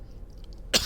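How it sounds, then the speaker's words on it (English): A single short, dry cough, close and sudden, breaking a near-silent background at the very end. "Apologies for my slight cough,"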